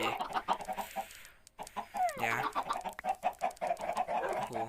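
A Minecraft chicken clucks in short, repeated bursts, with one rising squawk partway through, amid scattered game clicks and effects after a brief silent gap.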